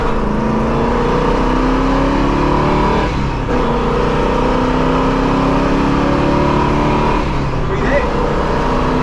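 A 1976 Pontiac Trans Am classic car has its engine running with a continuous rumble and a couple of rising revs, and voices talk over the engine throughout.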